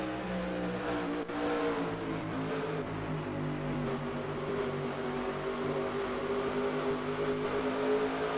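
Several race trucks roar around the Pikes Peak Raceway oval in a steady, continuous engine drone, with a loud sustained whine and no talking.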